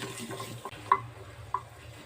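Dried red chillies and a piece of tamarind roasting in a pan for okra chutney, a soft steady sizzle with two brief clinks of a spoon against the pan, no voices.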